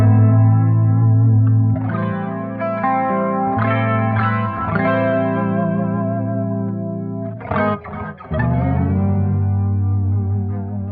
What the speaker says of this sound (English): I love doing the Steve Vai record trick where you do the trem bar and go.